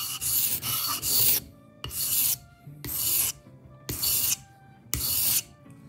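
Scissors are sharpened with a hand tool in five loud, close rasping strokes, each about half a second long, separated by short pauses of near silence.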